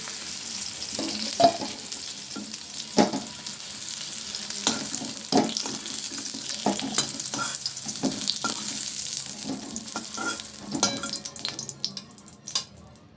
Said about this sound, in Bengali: কাঁচা কলাগুলো ভাজা হয়ে গেল, এবারে তুলে নিচ্ছি